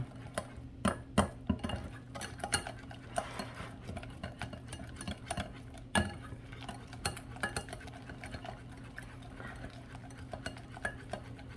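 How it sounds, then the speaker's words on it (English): A whisk beats orange chicken batter in a bowl, making rapid, uneven clicking and scraping taps against the sides, close and moderately loud, with a low steady hum underneath. "we're just gonna whisk this until you see that batter getting thicker"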